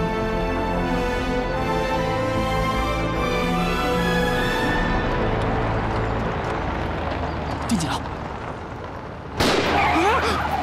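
In a war film battle scene, grenade explosions and gunfire boom and crack amid a dense, loud mix, with a sharp burst near the end, while voices speak throughout.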